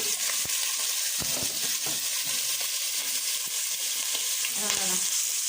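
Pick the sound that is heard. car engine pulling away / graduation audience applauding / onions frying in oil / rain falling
onions frying in oil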